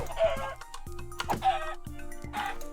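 A chicken in the video game Minecraft gives several short clucks in quick succession, clear and close over a low, steady game background tone.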